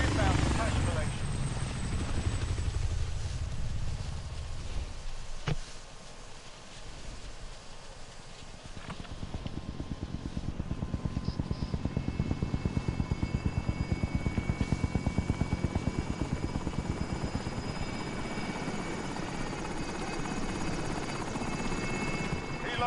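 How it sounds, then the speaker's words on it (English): A helicopter arriving in a Call of Duty game, its rotor chop building into a steady, loud rhythmic thumping with whirring engine tones, under scattered game sounds and radio-style voices. "Helo is in position for your deposit."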